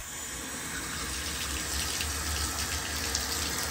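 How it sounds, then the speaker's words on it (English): Hot water runs steadily from a tap, a loud, close, even rush of water that holds constant from start to end with no voices. "So what I'm going to do is turn on the hot water."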